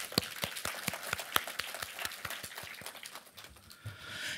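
An audience at a national marketing forum applauds with a run of sharp, distinct claps that settle into a steady patter and thin out toward the end, heard from a distance without voices.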